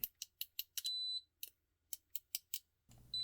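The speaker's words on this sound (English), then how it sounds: "the ever popular lead tapping continuity test" Continuity beeps from a GVDA GD128 smart digital multimeter as its test leads are tapped together: a rapid run of short, sharp beeps, two longer sustained tones, then more separate beeps, close and clear with no talking.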